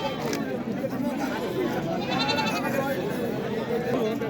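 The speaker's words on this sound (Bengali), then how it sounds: "ছাগলের হাটে দর্শক এক পিস ভেড়া এসেছে" Sheep bleating amid the crowded hubbub of the Taherpur goat market, with voices talking and chattering throughout, the animal calls mixed in with the talk.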